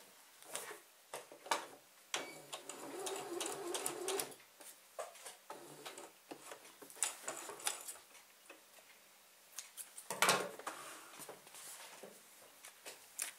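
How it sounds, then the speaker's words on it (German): A sewing machine stitching straight across fabric for a thread-catcher project, quiet intermittent bursts of rapid mechanical clatter broken by ticking handling sounds, close by with no talk. "Und hier quer rüber nähen."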